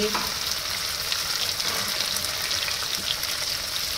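Ginger and chili paste sizzles in a hot pan as it is sautéed, a steady crackling fry with faint stirring scrapes, moderately quiet and close.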